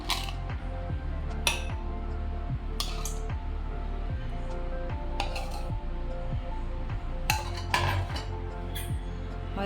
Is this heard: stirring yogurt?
yes